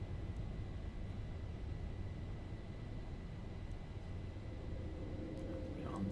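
A simulated airliner in the X-Plane 11 flight simulator rolls for takeoff and climbs, giving a steady, muffled engine rumble heard continuously from inside the aircraft with no voices.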